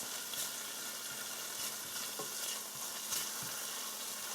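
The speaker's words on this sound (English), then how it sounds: "all I'm doing again is just frying that Epis" Haitian epis seasoning fries in a pan with a steady, close sizzle and crackle, broken by occasional stirring scrapes and taps throughout.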